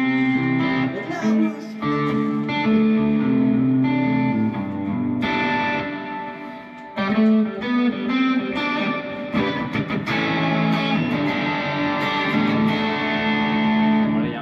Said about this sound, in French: il y a un petit peu trop de reverb